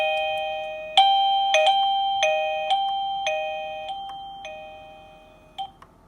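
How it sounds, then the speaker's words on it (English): An AlierKin wireless doorbell plays its chime several times in a row, each clear electronic ding-dong ringing close by and stepping down in volume through its levels. "So there's 4 different volume levels on the doorbell, and there's also like a silent."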